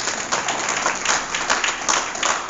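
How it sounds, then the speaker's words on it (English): A crowd at a women's wealth expo gives a brief round of applause, scattered clapping in steady waves across a couple of seconds, somewhat distant and even. "everybody give her a round of applause."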